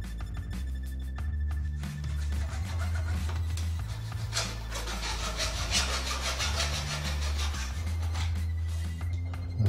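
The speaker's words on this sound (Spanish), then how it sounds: "lo que vamos a hacer es quitar con la ayuda de una lima la cresta de esos montículos" A hand file rasping down raised ridges on a small drag-cart build so a small nail can pass through its holes, steady back-and-forth scraping strokes continuing close and fairly loud for the whole stretch with no talk.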